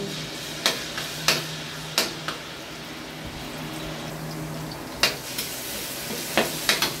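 Garlic sautéing in hot oil in a pan (a kawali) as the first step of pork menudo: a steady soft sizzle broken by sharp clacks of a spatula against the pan, close and with no voices.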